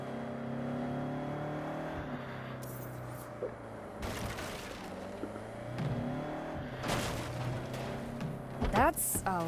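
A car engine in the Saints Row video game drones steadily and rises into revs, with the game soundtrack and people talking over it.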